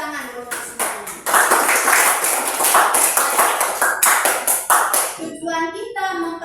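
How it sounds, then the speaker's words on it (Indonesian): A class of students claps together in a lesson, a burst of dense hand clapping lasting several seconds, with short taps before it and voices taking over as it stops. "Oke, baik, tepuk tangan dulu untuk semuanya."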